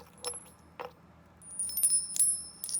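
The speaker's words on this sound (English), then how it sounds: "I have my little chimes that you probably hear in my videos." Small metallic chimes tinkle in a few light, scattered strikes with high ringing tones over quiet background hum.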